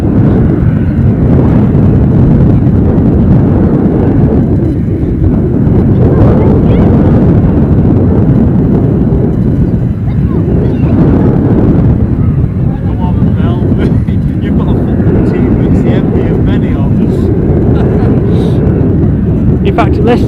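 A Delta airliner taking off at Edinburgh airport, heard as a steady, heavy low roar that fills the whole stretch beneath continuous nearby commentary, with some wind buffeting.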